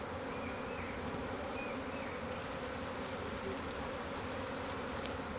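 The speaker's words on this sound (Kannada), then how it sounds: "ಜೇನು ಕುಟುಂಬ ಬಂದು ಸೇರ್ತಾ ಇದೆ ಇಟ್ಟಿಗೆಗೆ" A honey bee swarm settling on bricks outdoors, making a steady dense buzzing hum that stays close and constant throughout with no voices.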